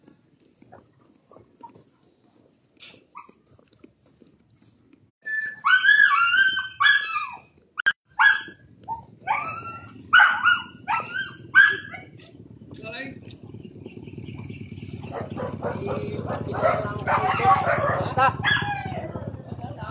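Farm dogs bark and yip in a rapid, close series of sharp calls, then fade into whimpering amid rustling background noise and faint bird sounds, with some voice activity present.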